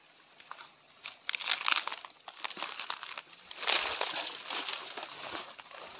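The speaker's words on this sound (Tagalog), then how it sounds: "Lakas na ng ulan ah." Heavy rain pours down in a dense, crackling patter that swells and eases over a few seconds, with no talking.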